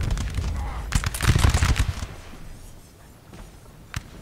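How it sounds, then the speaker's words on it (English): Musket volley fire from Hanoverian and British line infantry in Napoleon: Total War, a dense crackling burst of many overlapping shots, then a lull and one sharp isolated shot near the end. "excellent displays of uh, gunshots here with uh, some Hanoverian line infantry and some 59th uh, Lily White's foot"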